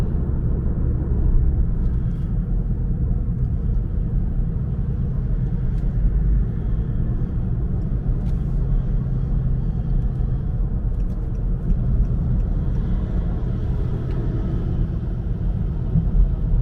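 Steady low road rumble of heavy traffic heard from inside a moving car on a drive from Fountain Square to Greenwood, constant and even throughout with no talking.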